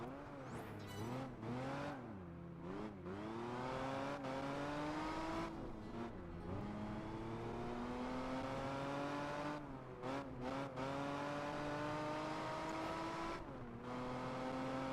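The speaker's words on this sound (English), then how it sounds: "This TVR here, very nice to drive." A TVR sports car driving in Project Gotham Racing 4, its engine revving and changing pitch steadily as the car accelerates and shifts gears, with brief dips when it lifts off, loud and continuous.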